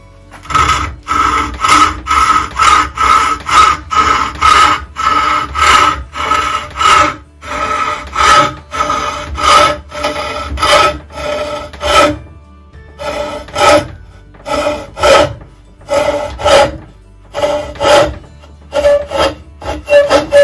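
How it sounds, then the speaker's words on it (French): A restored bow saw cuts through wood in steady back-and-forth strokes, each rasping pass loud and close, with brief pauses in the rhythm and no talking. "Ça scie, mais ça scie pas droit."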